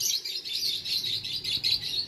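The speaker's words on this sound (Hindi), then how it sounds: "ये जो नया लेके आए थे तोता, वो इधर बोल रहा है" A pet parrot calls over and over in high, chirpy bursts, steady and fairly near, while a drizzly, rainy day sets in.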